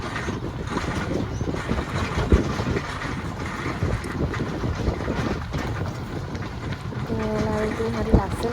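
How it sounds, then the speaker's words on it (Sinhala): A small tourist train running around the Emirates bio farm gives a steady, close rumble with wind buffeting, and a brief tonal horn-like note near the end. "ඔන්න ඔක තමයි කෝච්චිය"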